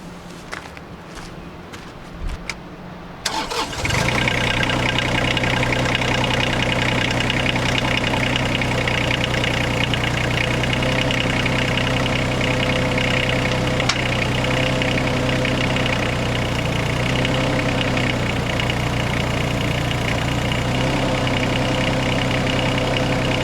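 An excavator's diesel engine cranks and catches after a few seconds of quieter clatter, then settles into a steady, loud, rumbling idle that runs on unbroken.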